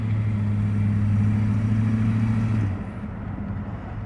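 A car engine fitted with a new higher-stall torque converter runs steadily, giving a low, even droning hum close by. The tone drops off a little near the end, and no one speaks.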